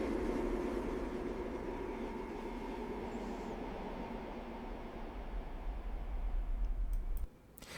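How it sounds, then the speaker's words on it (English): A train gives off a steady, broad rumbling roar that holds level throughout as it disappears down a tunnel, then cuts off abruptly near the end. "train disappearing down the tunnel"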